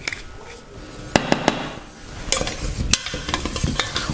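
New potatoes frying in olive oil in an Amway iCook pot, a close crackling sizzle broken by sharp spatula clacks and stirring scrapes, with no voices.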